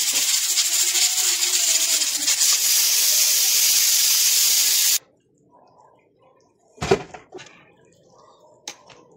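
Loud steady hissing and bubbling of a pot with lemongrass boiling over a fire cuts off abruptly, followed by quiet with a few sharp knocks and clatters.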